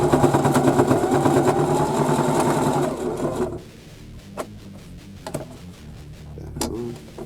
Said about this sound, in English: I do a front and back stitch and then a zigzag stitch to the right of this stitch to secure the straps.